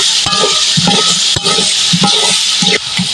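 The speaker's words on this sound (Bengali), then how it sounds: "আলুগুলো আমি কিছু সময় ভেজে নেব" Potatoes frying in a pan for bhuna khichuri, loud close sizzling with a steady hiss and rhythmic scraping stirs roughly every half second, and no talking.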